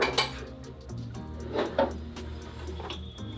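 Wooden and metal clatter as a flip-top tool stand carrying a router table and planer is rotated over in a small garage workshop, with a few knocks and clinks at close range.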